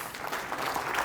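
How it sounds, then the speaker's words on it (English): Brief, moderately loud applause from a conference audience at a corporate magic show, a steady patter of clapping lasting about a second. "Let's give them one more round of applause for helping."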